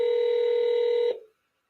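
A telephone dial tone or dialing signal for a call to a seller, one steady multi-tone beep lasting about a second before cutting off into silence.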